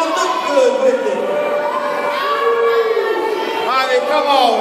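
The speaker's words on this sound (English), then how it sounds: "y'all cheering for me" A large wrestling arena crowd cheers and shouts loudly and steadily, many voices including children's yelling together in a sustained roar.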